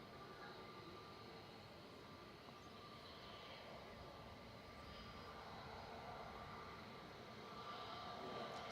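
A Jet2 airliner on a test flight departs Manchester Airport, its engines a faint, steady distant roar that swells slightly toward the end.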